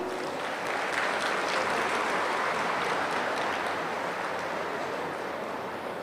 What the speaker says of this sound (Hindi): आप इस कार्यक्रम के लिए ताली बजाएंगे।